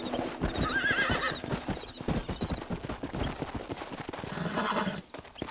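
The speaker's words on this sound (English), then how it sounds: "Where you going with that horse?" Horse hooves clip-clop steadily while a horse neighs and whinnies in Red Dead Redemption, set among busy ranch game sounds with loud, dense hoofbeats throughout.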